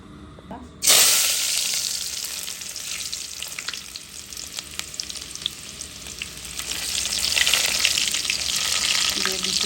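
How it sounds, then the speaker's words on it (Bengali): Oil hits a hot pan and starts frying loudly with a sudden burst of sizzle, then keeps up a steady crackling hiss broken by scattered spatters. Lentils and jute leaves are being cooked, and the sizzle swells again toward the end. "দিয়ে দিলাম তেল"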